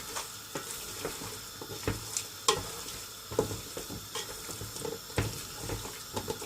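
Keema being stirred with Shan biryani masala in a hot pan: scraping spoon strokes and clinks over a steady sizzle, close and moderately loud, with no talking.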